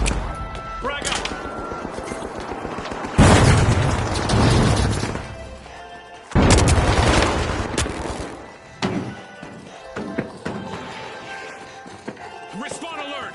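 Grenade blasts in THE FINALS video game: two loud broadband booms a few seconds apart, each followed by crashing debris, set against ongoing gunfire clatter and game effects, with voices speaking.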